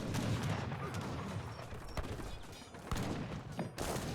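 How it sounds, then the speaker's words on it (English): Mortar fire in a real-time strategy battle with German forces, a dense, continuous barrage of booming blasts and crackling gunfire layered on each other, with sharp thumps standing out near the end of the short stretch. "Alright, more mortars coming in."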